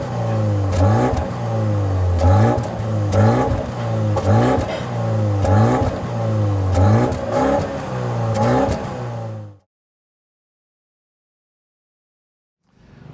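BMW X1 M35i compact SUV revving hard through its quad tailpipes, a loud close engine blipping up and down in repeated bursts for about nine seconds before cutting to silence.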